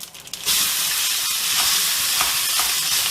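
Cooked rice goes into a simmering South Indian tempering with curry leaves for peanut rice, setting off a loud, steady sizzling hiss in the pan after a brief quieter start, close and continuous with no talk.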